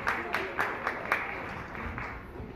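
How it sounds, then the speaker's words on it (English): Guests at a wedding reception clap after a mother-daughter dance, a moderate patter of applause with a few sharper rhythmic claps early on, fading slightly toward the end. "please give them a big round of applause."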